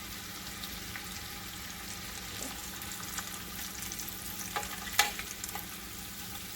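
Breaded chicken cordon bleu frying in a pan, a quiet steady sizzle with occasional soft pops and a sharper crackle near the end, without speech.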